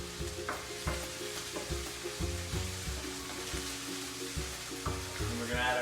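Food fries and is stirred in a pan while Thai beef noodles are cooked, with a steady loud sizzle and repeated rhythmic knocks and scrapes of the utensil against the pan.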